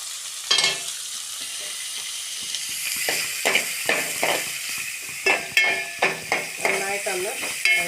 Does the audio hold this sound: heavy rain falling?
no